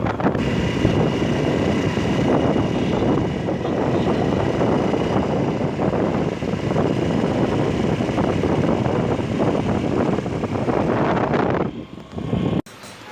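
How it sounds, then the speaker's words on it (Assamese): A scooter is ridden along the road. Heavy wind buffets the microphone over a steady, close engine drone that runs unbroken, then dips and cuts out abruptly at the very end. "গাইজ, মই আহি আছোঁ স্কুটি লৈ আৰু বহুত দিনৰ মূৰত স্কুটি চলাইছোঁ"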